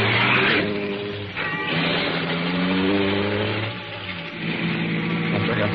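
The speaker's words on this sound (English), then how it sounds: "After I got the car back on the road again" Car engine accelerating as the car pulls back onto the road in an old-time radio drama, a loud mid-pitched revving that rises through the gears, with no talking.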